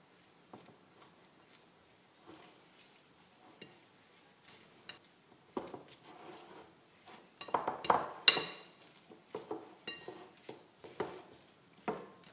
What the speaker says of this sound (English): We're going to add the rest of that into our feta cheese. I'm going to stir that up.